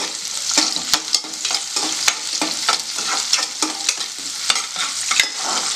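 Garlic, then half an onion, frying in a pan for garlic chicken: a loud, continuous close sizzle punctuated by rapid, regular scrapes and knocks of a spoon stirring, with no one speaking.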